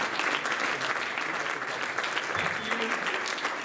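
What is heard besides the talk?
applause for the conference organizers on stage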